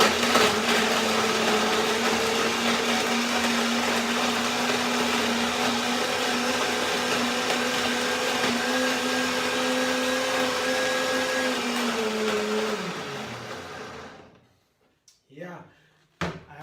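A blender grinds frozen raw vegan blueberry pie filling with a splash of water, a loud steady whirring drone running for about twelve seconds before winding down and stopping, then a few brief clunks.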